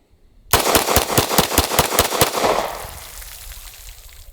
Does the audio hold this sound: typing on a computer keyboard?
no